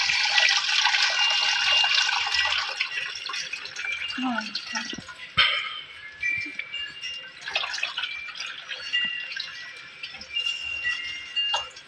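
Running tap water splashes into a container as sliced potatoes are washed a second time for fasting potato wafers, a steady close wash with clattering and sloshing throughout.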